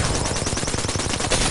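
Rapid automatic gunfire in the shooter game Apex Legends, a dense close burst of shots firing in quick rhythm with no pauses.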